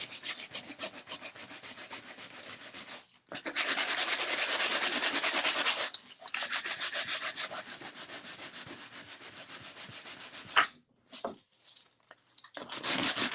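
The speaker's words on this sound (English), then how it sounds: "So I think I'm just going to start sanding right here and see." Sandpaper rubs steadily over a painted surface in long, close, loud scraping strokes, broken by short pauses and a few brief stops near the end, with no talking.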